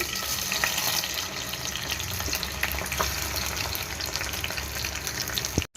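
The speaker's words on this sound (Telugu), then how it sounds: "మెల్ట్ అయిన తర్వాత ఈ గుమ్మడికాయను వాటర్తో సహా పోసేసుకోవాలండి" Ash gourd poured with its water into melted ghee in a pan for halwa, giving a dense, continuous bubbling sizzle up close that cuts off abruptly at the end.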